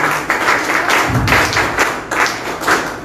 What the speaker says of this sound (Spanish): también fuerte palmas